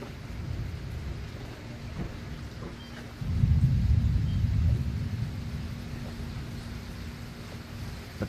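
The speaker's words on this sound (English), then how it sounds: "we definitely have some rainfall that has begun to fall" Steady rain and low rumbling thunder of a South Alabama summer thunderstorm, a continuous wash of rainfall with a deeper roll swelling midway through and lingering, no voices.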